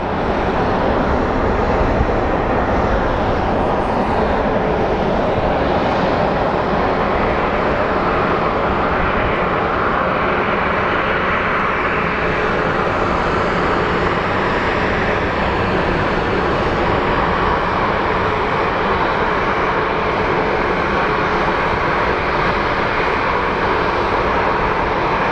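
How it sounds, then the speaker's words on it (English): A Southwest airliner, flight 2376 bound for Las Vegas, rolls down the runway at Phoenix Sky Harbor for takeoff, its jet engines a loud, steady broadband roar that holds for the whole stretch without talk. "So we have Southwest 2376 going to Vegas. That's getting to the end of the runway for departure."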